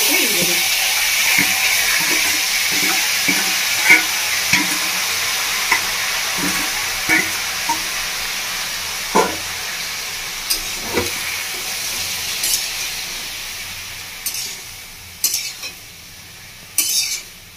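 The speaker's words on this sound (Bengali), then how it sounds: "এবার আমি ওপর থেকে তেলটা দিয়ে দেবো।" Hot oil poured over a fish head and cabbage in a pan for a home-style Bengali cabbage dish, sizzling and hissing steadily at close range with stirring clinks and scrapes.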